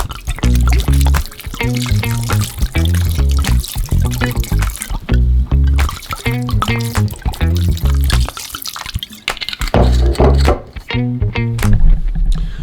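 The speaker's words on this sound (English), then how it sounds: "These are dark pitted sweet cherries. We're gonna add some booze to them." Liquor glugs and gurgles from a bottle onto dark pitted sweet cherries in a kitchen, loud close pours in repeated bursts with brief pauses between them, and no talking.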